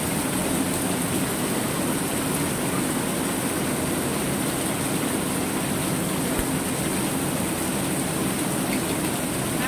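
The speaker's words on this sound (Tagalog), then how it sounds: "Sobrang lakas ng ulan." Heavy rain pours down in a steady, dense roar with no breaks, loud and constant throughout, with no voices heard.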